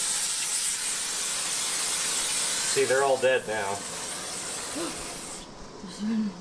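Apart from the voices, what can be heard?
spraying insecticide from a spray can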